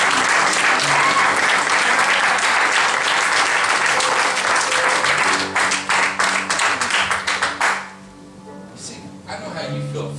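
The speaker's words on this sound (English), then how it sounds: "Would y'all give her a round of applause" A church congregation breaks into loud, dense applause that sustains for several seconds, thins into scattered claps, then fades into quieter room sound with a few voices.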